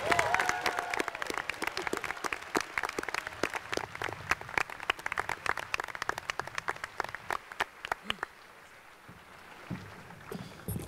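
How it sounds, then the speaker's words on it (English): Graduation crowd applauding prize winners, with loud, distinct clapping and some cheering in a large audience, thinning out toward the end as the claps become sparse and scattered. "a hearty round of applause for all of those prize winners."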